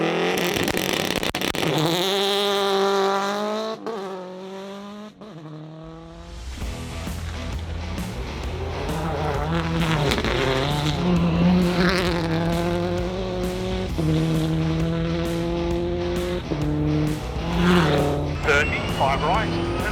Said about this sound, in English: the noise of that car with the launch control and the anti-lag off the line